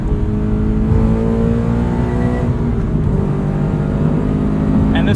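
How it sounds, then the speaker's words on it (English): Loud, continuous engine note from a sports car with a full exhaust, the revs rising and falling through gear changes as it drives, with a steady deep drone and no talking. "This full exhaust makes all the right noises."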